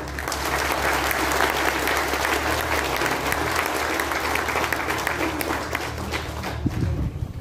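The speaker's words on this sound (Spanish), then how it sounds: "a quien pido un fuerte aplauso" An audience applauds for the mayor at the inauguration of a road in La Troja, Pénjamo. The clapping is dense, steady and sustained throughout, with a low rumble beneath it.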